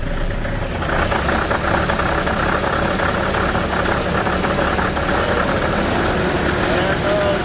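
A Nissan 720 truck engine idles after a cold start, a steady loud rumble with a rough, knocking edge that runs unbroken throughout and sits close to the listener.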